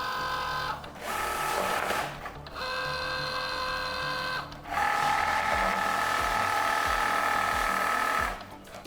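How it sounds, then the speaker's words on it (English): A Cricut cutting machine slices Cricut Smart Vinyl, loaded without a mat, for a puzzle table project. Close motor whirring runs in steady mechanical passes with brief pauses and shifting pitch between runs. "Then I cut it out on Cricut Smart Vinyl."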